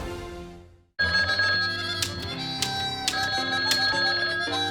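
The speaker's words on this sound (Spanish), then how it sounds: "¿El teléfono no vas a contestar?" A telephone bell rings loudly and steadily after a brief fade-out of a political ad, its repeated metallic trill continuing alone without speech.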